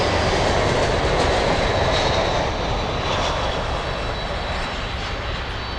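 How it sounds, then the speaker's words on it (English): A Boeing 767 sits at Miami International Airport with its jet engines giving off a steady, loud, broadband roar that holds evenly throughout, with a faint whine on top. "767 flying to Bogota"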